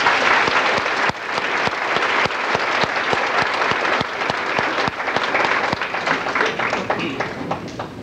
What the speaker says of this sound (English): Could we have a round of applause for all of these individuals?